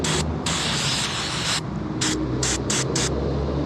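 Brake cleaner sprays from an aerosol can in several hissing bursts: one long spray, then shorter separate blasts, close and clear, with no talking.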